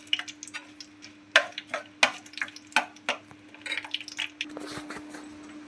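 Mustard seeds, cumin and lentils frying in oil in a pan, heard close and fairly quiet as a series of sharp pops and crackles over a low sizzle, with no talk.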